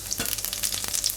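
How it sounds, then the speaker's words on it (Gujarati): Mustard seeds and cumin hitting hot oil in a pan for Gujarati spinach urad dal: a brief burst of close, crackling sizzle with rapid little pops over just over a second. "તો તેલ આપણું ગરમ થઈ ગયું તો એમાં થોડીક રાઈ નાખશું અને થોડુંક જીરું"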